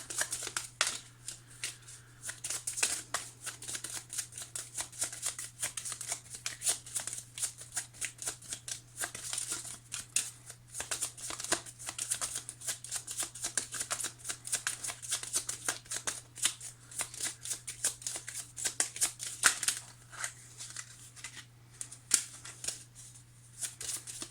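A deck of tarot cards is shuffled continuously for a reading, with dense, rapid flicking and riffling throughout, close and fairly quiet over a steady low hum; no one speaks.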